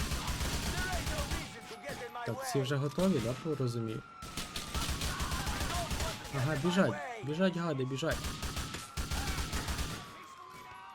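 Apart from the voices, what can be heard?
gunfire in a video game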